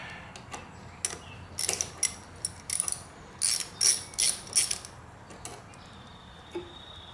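A ratchet with an 8mm socket loosens the brake hose clamp on a Honda VTX 1300, giving short bursts of quick, close clicking separated by brief pauses.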